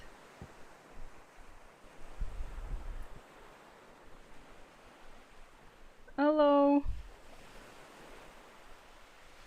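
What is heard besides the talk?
ocean waves ambience played as background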